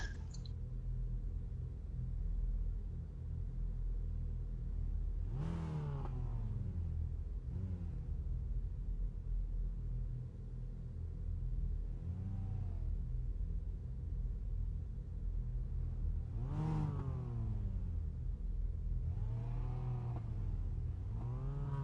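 Racing cars idle on the starting grid with a constant deep rumble, and several engines rise and fall in distinct revs over about twenty seconds, heard from a moderate distance.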